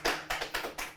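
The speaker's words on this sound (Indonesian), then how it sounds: "Tepuk tangan untuk perdamaian dunia." Hand clapping, five or six quick sharp claps in an even rhythm, close and fairly faint, with no talk.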